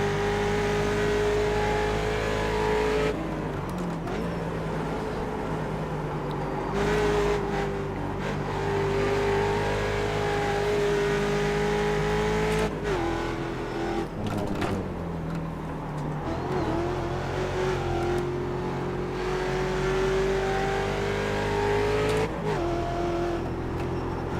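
Mustang race car in iRacing's Mustang Challenge at Road Atlanta, engine howling loud and continuous with repeated rising pitch sweeps through the gears and sharp drops at shifts, no talking.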